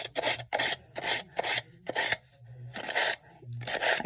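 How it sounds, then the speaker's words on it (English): Sandpaper rubbed along the edges of cut cardstock for a papercraft kit, a series of about eight short raspy scrubbing strokes in a quick back-and-forth rhythm, close and fairly soft. "It softens the edges of the paper when you sand it like this"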